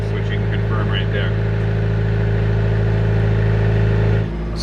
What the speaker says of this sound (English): we've been running the engine for 1/2 hour